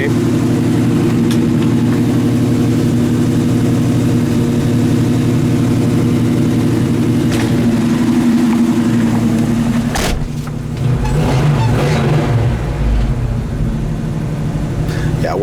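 A numbers-matching 1968 Chevelle SS V8 idles with a steady, loud, low rumble that holds throughout, with a brief shift and some nearby clatter partway through.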